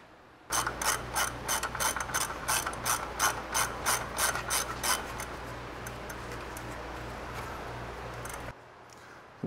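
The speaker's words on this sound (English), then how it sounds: "I'm just tightening up the shocks." A hand ratchet clicks rapidly as it tightens the shock absorber bolts on a Jeep fitted with Old Man Emu shocks. Around fifteen sharp, evenly spaced clicks come close and loud over a steady mechanical hum before stopping abruptly.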